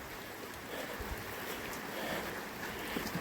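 Gusty wind buffets the microphone outdoors in a wet, wild Tasmanian winter garden, a steady rough roar with no voices.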